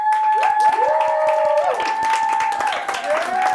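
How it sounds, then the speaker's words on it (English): A crowd cheers loudly with whoops and steady clapping, a sustained high whistle-like tone riding over the noise throughout. "If you think that Kemper and the Bear Cubs won, cheer"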